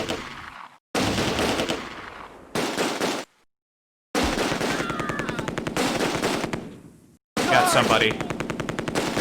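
Bursts of .30 cal machine-gun fire in the Close Combat war game, several long rapid rattling strings separated by short silences, loud and sharp, with a voice speaking briefly over the firing.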